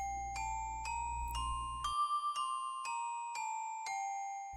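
Minor scale played as a sequence of bright, bell-like notes, about ten evenly spaced strikes rising then falling, clear and close, with a low hum under the first half.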